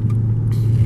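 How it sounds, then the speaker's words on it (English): Dodge Charger RT engine running in sport mode, a steady low rumble heard from inside the car, moderate and continuous with no talk. "I just put it in sport mode, and as you can see, it sounds louder"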